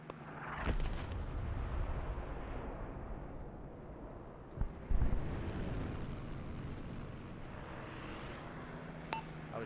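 Muffled bomb blasts from an ARMA 3 air strike rumble at a distance, with a deep boom early and another heavy thud near the middle over a continuous low roar, fairly faint overall.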